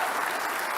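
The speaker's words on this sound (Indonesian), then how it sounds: "Terima kasih, Mas Anies, kita kasih tepuk tangan" Brief burst of dense audience applause at a televised Jakarta gubernatorial election debate, steady and fairly loud with no speech over it.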